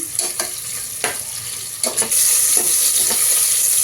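Two medium onions fry with green chillies in a pan, with a close, continuous sizzle punctuated by several scraping strokes of a spatula, and the hiss grows louder and steadier toward the end.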